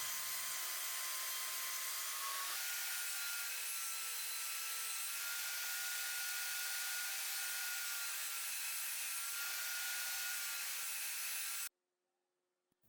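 A power tool cuts a groove in a table saw top with a loud, steady, high whining grind that stays unbroken for about twelve seconds and then stops abruptly into near silence.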